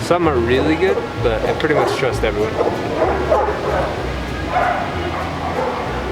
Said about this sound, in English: Sorry if you can hear like a million dogs barking.